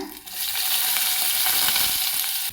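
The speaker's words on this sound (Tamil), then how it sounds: "எண்ணெய் சூடாயிடுச்சுங்க. கடுகு போட்டுக்கலாம்." Mustard seeds sizzle and crackle in hot oil, a steady, close frying hiss with scattered small pops throughout.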